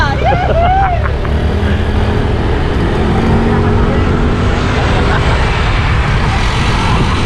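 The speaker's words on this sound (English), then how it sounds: "there's 6 guys go zooming past me" Several vehicles zoom past on a road in Davao City, Philippines, their engines and tyre roar forming a steady close wash of traffic noise while a rider moves along.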